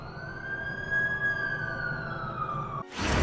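Wailing ambulance siren in The Amazing Spider-Man 2 video game, a steady sweeping tone rising and falling over low traffic rumble, cutting off abruptly near the end as a burst of noise takes over.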